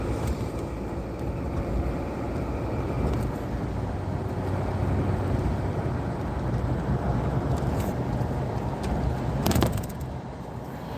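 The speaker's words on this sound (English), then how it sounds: "A lot of traffic tonight, guys." Steady road traffic at night heard from inside a driving car, a continuous low rumble of engine and tyres with a passing whoosh near the end, no talking.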